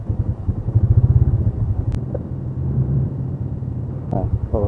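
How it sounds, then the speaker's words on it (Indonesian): A manual-clutch motorcycle ridden in second gear gives off a steady, close engine drone that holds throughout. A voice talks over it and a few brief clatters come near the end. "Jadi kita masuk gigi 2 dan terasa gigi 2 itu lebih cepat daripada gigi 1."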